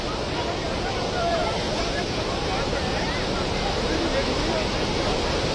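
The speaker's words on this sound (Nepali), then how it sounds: "खोला कत्रो आयो है" A flooded river in Nepal rushes in a dense, constant roar, loud and close without a break, filling the whole stretch with turbulent water noise.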